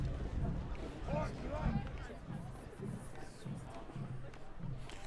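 A Thanksgiving Day high school football crowd at a game against Billerica gives off a distant, steady murmur and rumble, with occasional rhythmic thumps, under a commentator's close voice.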